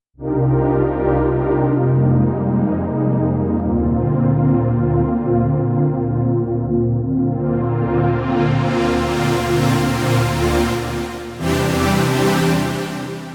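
A sustained Korg KingKORG synthesizer pad holds a steady chord, then gradually brightens as an LFO-modulated filter opens, with a brief dip before the full, bright tone returns.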